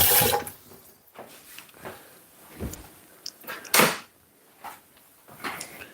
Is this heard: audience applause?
no